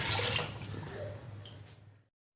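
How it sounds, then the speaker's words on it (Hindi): Water poured into a cooking pot of peas for matar pulao, a steady splashing pour lasting about two seconds before cutting off. "अब मैं इसमें चावलों के हिसाब से पानी डालूँगी।"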